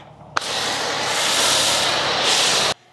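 A foam cannon sprays pH-balanced car wash soap onto a car, a sharp click and then a steady, loud, close hiss of spray lasting a couple of seconds before cutting off abruptly.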